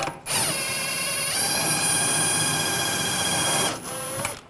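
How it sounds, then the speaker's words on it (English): A power tool spins out a bolt with a 21mm socket during rear wheel bearing replacement on a 2007-2013 BMW 328i, giving a steady high-pitched whine that runs for several seconds, stops, then briefly resumes, close by. "Now I can take this bolt out. Use a 21mm socket."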